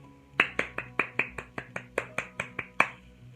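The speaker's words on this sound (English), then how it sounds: "I think we all should give them a round of applause" A short burst of clapping for children receiving awards at a school celebration assembly, about a dozen crisp, evenly spaced claps close by, sounding like a small group or a single pair of hands.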